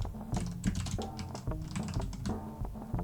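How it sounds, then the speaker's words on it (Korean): Rapid keystrokes on a computer keyboard while entering Android Kotlin code, a dense irregular clatter of clicks running steadily throughout, close and fairly loud with no talking. "저는 직접 타이핑을 하겠습니다."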